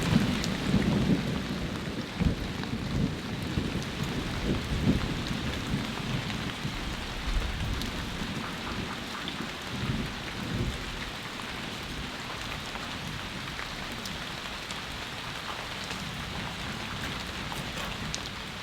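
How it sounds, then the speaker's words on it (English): Heavy rain pours steadily on surfaces around a rotting cabin shelter during a thunderstorm, with deep thunder rumbles early on fading to a continuous dense downpour hiss close by. "That was not a direct hit, but it has been raining rather hard."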